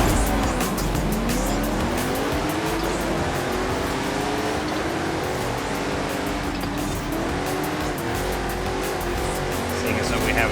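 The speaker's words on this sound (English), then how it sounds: "I guess we'll take this Baja truck out for a spin." A Baja truck roars loudly off-road in Forza Horizon 5, the engine revving continuously with shifting pitch and occasional tire noise, alone without talking.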